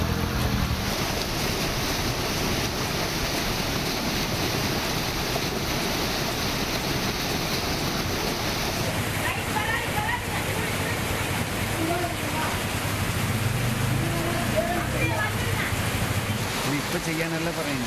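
Floodwater after heavy rain pours down unblocked from higher ground, a steady loud rushing roar of flowing water that continues without a break.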